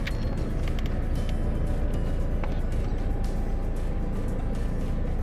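A car engine runs at a steady, dense rumble throughout, fairly loud and close, with no voices.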